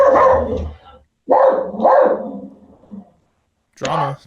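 A dog barks loudly and close in a few separate bursts of deep barks with short pauses between them, standing alone without talk.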